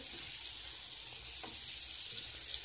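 Spinach and chicken balls frying in hot oil, a steady close sizzle with fine crackling that fills the whole stretch, with no talk.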